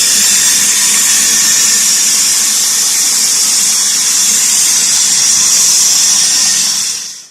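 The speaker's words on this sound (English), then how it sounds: "We turn the water on." Water rushes into a toilet tank as the supply is turned back on after a flapper replacement, a loud, steady hissing fill that runs unbroken before cutting off at the end.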